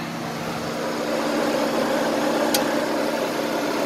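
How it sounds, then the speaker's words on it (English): Both radiator cooling fans of a car run together with the engine off, a steady whirring hum with a constant low drone, close by and unbroken. "Both fans are running"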